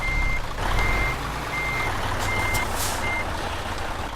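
A truck reversing alarm beeps in Euro Truck Simulator 2, five evenly spaced high tones over a steady low diesel engine rumble.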